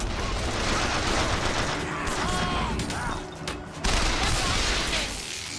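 Gunfire in the video game Bioshock Infinite: a busy run of shots and bursts over a loud, constant action din, with a short lull near the end before the noise picks back up.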